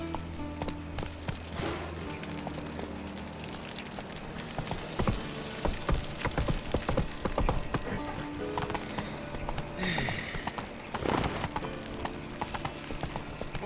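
Horse hooves clatter at a gallop in The Witcher 3 video game, a steady rhythmic clip-clop close by amid game music and ambient effects, with a brief neigh and some spoken dialogue.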